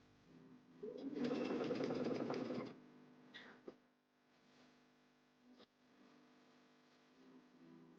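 A sewing machine runs in a short burst of about two seconds while stitching satin fabric for a scrunchie, then falls quiet apart from a few faint clicks and a low hum.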